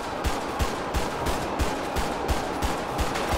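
Gunfire in the video game GTA 5, a steady series of about ten evenly spaced, punchy shots over a constant noisy background, without voices.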